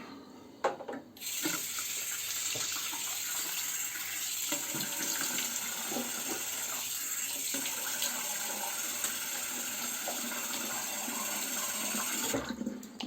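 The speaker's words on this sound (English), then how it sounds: "quick rinse" Tap water runs steadily for a rinse after shaving with a safety razor, a continuous close splashing stream that stops abruptly near the end.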